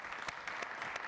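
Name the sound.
applause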